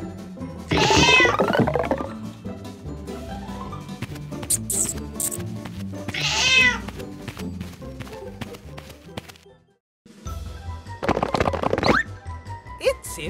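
A cartoon cat on a 3D farm diorama gives several loud, drawn-out meows in separate bursts over tapping, thumps and background music.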